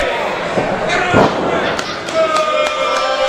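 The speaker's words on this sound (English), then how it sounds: "Vicious DDT from the outside in." A wrestler is driven down by a DDT from outside into the ring: a heavy slam thuds across the canvas, followed by sharp crowd noise and a commentator talking over the impact.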